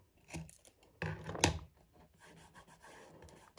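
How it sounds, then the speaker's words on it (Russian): Scissors trim excess paper from a handmade gift box at close range, with a few crisp snips and rustling, one sharper cut standing out before quieter handling noises. "Лишнее обрезаю."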